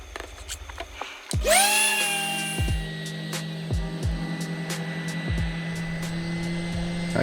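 A power sander whirs up to speed on a wooden dining table and then runs steadily with a continuous motor whine, loud and close.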